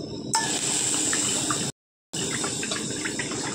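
Water is poured onto sugar in a pot to make syrup for sago rasgulla: a steady close gushing pour that breaks off briefly midway and then resumes, with no talking.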